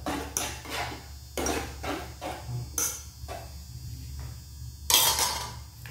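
Fried noodles being stirred in a pan, repeated metallic clanks and scrapes of a utensil against the pan in an uneven rhythm, close and fairly loud over a low hum.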